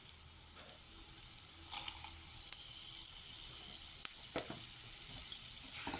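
Panch phoron spices crackle softly in hot mustard oil, a faint steady sizzle broken by scattered small pops and clicks, close but quiet, with no talking.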